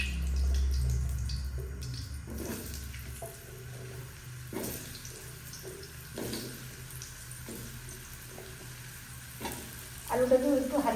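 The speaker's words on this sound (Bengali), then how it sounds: "এখন আলু ভেজে নিচ্ছি।" Potatoes frying in a pan for a vegetarian potato and pointed gourd curry, a soft steady sizzle with occasional stirring scrapes and clinks, close by and moderately quiet, with no talking.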